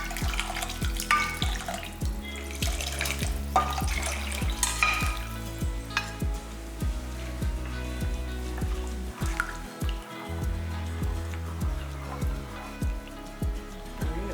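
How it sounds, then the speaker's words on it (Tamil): Water is poured into a cooking pot of cowpea kadaisal, giving a running, splashing pour with clinks and stirring scrapes against the pot, close and continuous. "இப்போ இந்த தண்ணி எல்லாமே இதில் ஊற்றிடலாம்"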